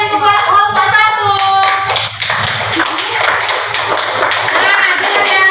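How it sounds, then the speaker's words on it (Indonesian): A classroom of students claps for the first group, scattered hand claps building into brief applause over lingering voices and a tonal sound at the start. "tepuk tangan dulu untuk kelompok 1"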